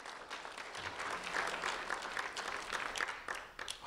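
A room full of people applauds steadily, a dense patter of clapping that holds for several seconds before tapering slightly.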